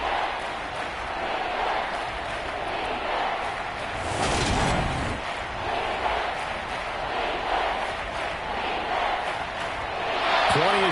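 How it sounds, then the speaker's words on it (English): Stadium crowd in an American football video game, a steady roar of shouting spectators swelling at times, with an announcer talking over it. "Plenty of shouts from this crowd as they watch the replay."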